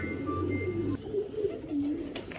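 Breeder pigeon cooing softly at close range, a few low throaty coos in a row against a quiet room background.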